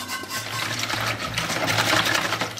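Toasted flour roux being whisked with water in a pot for Slovak yeast soup, a steady, close, fast scraping and rattling churn with no talk over it.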